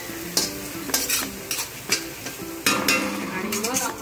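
Onions sautéing in a pan for a large home-cooked Marathi meal, with a steady soft sizzle broken by repeated clinks and scrapes of a spoon stirring, and a voice audible over it.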